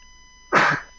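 A single short, explosive sneeze, close and loud, lasting under half a second.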